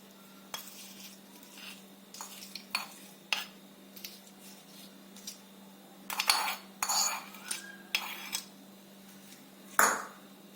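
A spoon clinks and scrapes against a vessel while tempering is stirred into ivy gourd chutney, in scattered short bursts over a steady low hum, with a sharper knock near the end.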